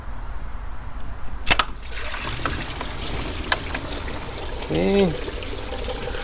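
Coolant draining from a 2009 Porsche Cayenne S 957 engine during thermostat work: a faint, steady trickle and pour of liquid under a brief spoken word, with a couple of sharp clicks.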